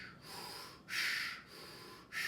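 Breathing during a home workout: three long, loud, airy breaths in a slow steady rhythm, heard close and alone.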